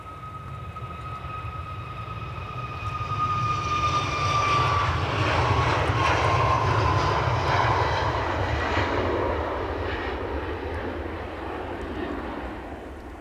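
A Ryanair airliner at Edinburgh Airport, its jet engines roaring loud and steady with a rising whine that swells to a peak midway before easing slightly, heard alone and close.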